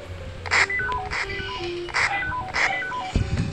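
Telephone keypad tones being dialed in the Toca Boca World game, a quick run of beeping DTMF presses falling into rhythmic clusters, bright and clear with a short thump near the end.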